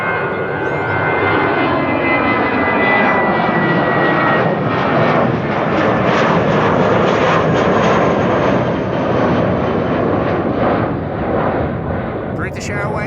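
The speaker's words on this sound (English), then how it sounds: "British Airways to London Heathrow underway" A British Airways jet bound for London Heathrow rolls at Amsterdam Schiphol with a loud, steady engine roar that swells toward the middle. Someone speaks over it.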